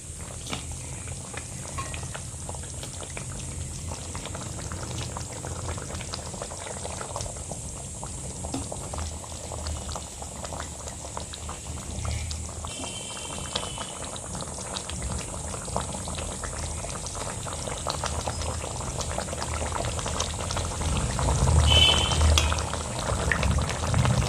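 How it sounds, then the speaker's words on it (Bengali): Rui fish kalia gravy bubbling in a pan on the stove, a steady close simmer with dense popping and sizzling that grows slightly louder toward the end, no voices. "মাছগুলো গ্রেভির মধ্যে দেওয়ার পর 2 মিনিট ফুটিয়ে নেব।"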